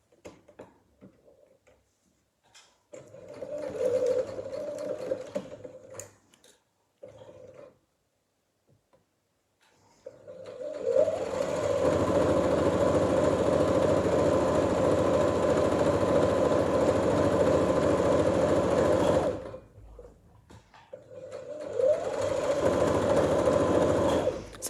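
A sewing machine runs a long straight seam down the side of a kimono, a steady close mechanical whir with short bursts before it and another run after a pause.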